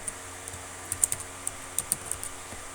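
Python code being typed on a computer keyboard, a loose run of crisp individual key clicks with uneven spacing, close and moderately quiet against a low background hum.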